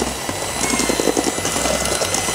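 A hand mixer beats brownie batter with a loud, continuous motor whir up close, its churning pulsing slightly as the beaters move through the thick mixture.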